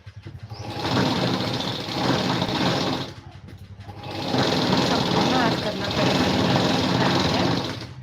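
A sewing machine stitches a boat-neck designer blouse in two sustained whirring runs, split by a short pause, with a steady rapid needle rhythm close by.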